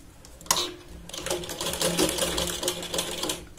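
A sewing machine stitching a Katori blouse runs in a fast, steady mechanical whir with rhythmic needle clatter, loud and close after a brief starting thump.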